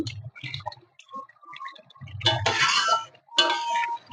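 A spoon scrapes and clinks against a pan while catla fish kalia curry is stirred after garam masala goes in, giving sparse, irregular metallic taps and scrapes close up, with quiet gaps between them.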